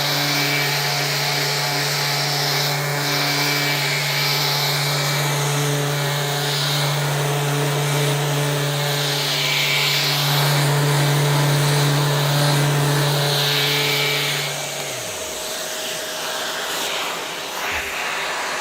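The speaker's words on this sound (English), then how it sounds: "This is a cordless sander." Cordless sander with a dust extractor running on red gum wood, a loud continuous motor whine with steady hum that holds for about fifteen seconds before winding down.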